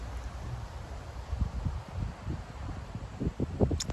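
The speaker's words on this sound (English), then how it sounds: "It's a little windy." Outdoor wind buffets the microphone on a mild December day, low rumbling gusts rising and falling in short bursts, fairly faint with no talk.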